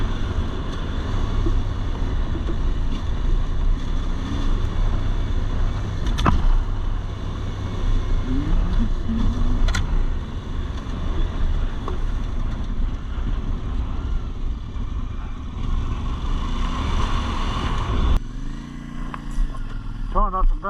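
A CF Moto 450MT Ibex adventure motorcycle riding off-road, the engine droning and rising and falling as the clutch is worked, steady and close with wind rumble and a shift in tone near the end.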